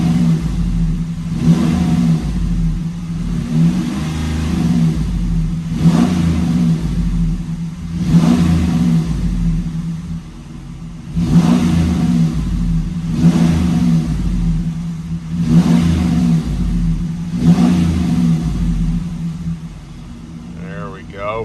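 A stock Hemi Dodge Ram engine running on a chassis dyno with an ethanol fuel kit, steady mid-range engine drone with repeated rising rev swells every couple of seconds, loud and close, with people talking over it.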